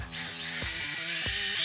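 An electric drill bores a hole in the steering column of a Dodge E-body, whining steadily at close range with a couple of brief load dips, no talking.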